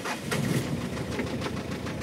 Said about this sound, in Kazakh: Бир свечасы иштебей атат дейт. Ошого такырап атат